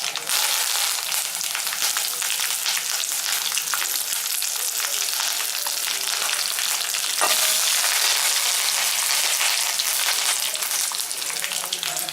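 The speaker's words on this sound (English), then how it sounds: "So mustard seeds are being splattering now." Mustard seeds splutter and crackle in hot oil for a small onion chutney with golden chana dal, a dense, steady sizzle with close popping throughout and no talk.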